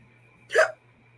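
A woman gives a single short, sharp hiccup, close and fairly loud, over a quiet steady background hum.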